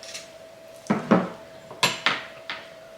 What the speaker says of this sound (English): with the spoon that I use to separate, I'm just going to give it a mix through